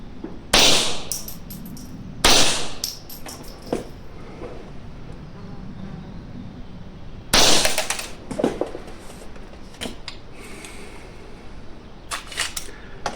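A Mauser 1911 .22 LR pistol fires at the range with sharp, loud reports spaced irregularly, some single and some closer together, with quieter clicks and handling noise between shots.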